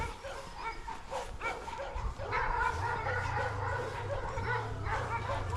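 Many dogs at a kennel or shelter bark, yip and whimper together in a continuous chorus, heard from nearby while walking past, fairly loud and overlapping with no clear pauses.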